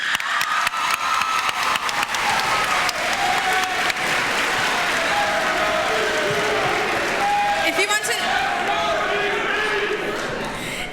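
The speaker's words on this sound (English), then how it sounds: "Let's have one final round of applause for this year's Homecoming Court." A school auditorium crowd at a homecoming court introduction applauds loudly and continuously, with cheers and scattered shouts riding over the steady clapping before it eases slightly at the end.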